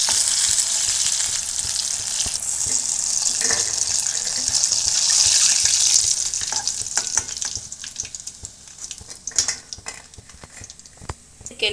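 Crispy KFC-style chicken pieces fry golden brown in hot oil with a loud, steady sizzle. The hiss thins out partway through, leaving scattered crackles and handling clicks near the pan, with no voice.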